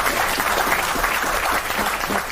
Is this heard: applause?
yes